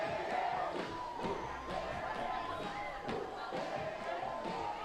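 Stadium crowd at the gold medal game of the 2017 IFAF Women's World Championship, USA versus Canada, in American football, roaring and cheering after a play. The broad, steady crowd noise is fairly distant, with scattered thumps and calls in it.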